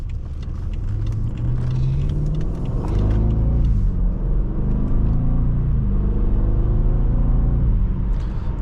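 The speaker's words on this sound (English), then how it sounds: "the engine is running beautifully" A 2013 BMW 750Li xDrive V8 engine runs with a deep, steady rumble, swelling as it revs partway through and settling into a smooth drone, no voices.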